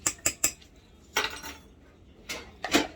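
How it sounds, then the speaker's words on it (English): Freshly washed metal spoons clink and rattle against one another while being dried in a home kitchen during brownie baking, with three quick bright clinks at the start and a couple of louder scraping clatters later, close and without talk. "I have to dry my spoons because I just washed them."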